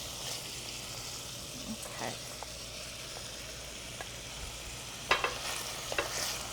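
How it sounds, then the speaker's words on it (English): Beef browning in a stew pot, giving a steady low sizzle with a few brief clinks and stirring scrapes, heard fairly close and moderately quiet. "now our beef is getting nice and browned"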